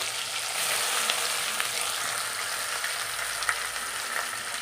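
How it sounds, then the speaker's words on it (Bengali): Pieces of boal fish fry in hot oil in a home kitchen, giving a steady, close, continuous sizzle and crackle with no one speaking. "এখন আমি মাছ ভাজি করতেছি"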